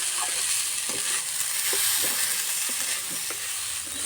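Rice fries in a pan for prawn pulao under a constant sizzle, with a spatula stirring and scraping it at a regular, unhurried rhythm, close and fairly loud.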